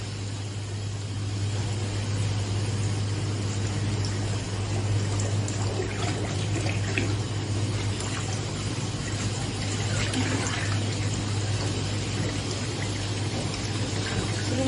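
Clean water runs into a water-type deep fryer being refilled after cleaning, a steady rushing pour with light splashing over a constant low mechanical hum, continuous and moderately close.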